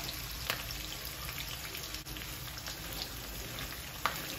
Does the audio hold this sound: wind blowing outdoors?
no